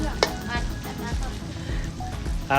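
Fish fried in hot oil with spices, a steady close sizzle and bubbling that keeps going throughout with a few soft clatters from stirring.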